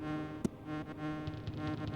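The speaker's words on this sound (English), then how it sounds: "What are these bees even doing in a mine shaft," Bees buzz in a mine shaft level of the Donkey Kong Country video game, a low, droning hum running continuously beneath layered game music, with a sharp thump near the start.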